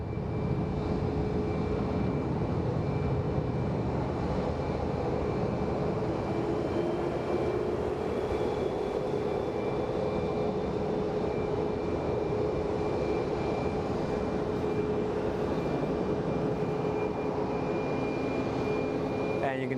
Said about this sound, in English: Man, that is a loud, loud plane